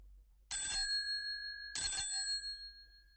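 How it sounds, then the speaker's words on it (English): A bright doorbell rings twice, each ding ringing out with a lingering metallic tone and a pause between them, in an otherwise quiet space. "Then suddenly she ran across the road and rang Holmes's doorbell."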